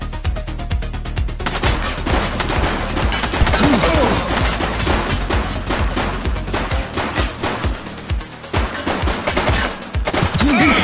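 Rapid gunfire in the police video game The Precinct, with dense bursts of loud shots and echoing impacts running almost nonstop, close and harsh.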